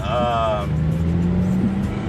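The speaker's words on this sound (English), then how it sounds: "We're actually driving through downtown Atlanta right now." Scion tC with a manual gearbox driving through downtown Atlanta in pouring rain, its engine note steady and close as it revs and shifts, with traffic noise around and people talking over it.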